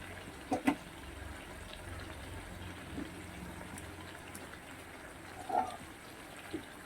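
Hot water poured into a pan of chicken curry as it comes to a boil, with a quiet, steady liquid wash and a couple of brief splashing bursts, near the start and again later.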